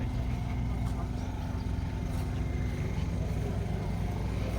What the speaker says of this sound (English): There's that V8 Land Rover that's going up the hill.